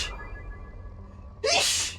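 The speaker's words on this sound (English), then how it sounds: "I'm sneezing." A single loud sneeze bursts out near the end, sharp and close, after a quiet stretch of faint room noise.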